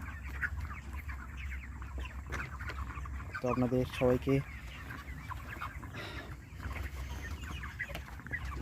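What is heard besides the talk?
chickens clucking at a poultry farm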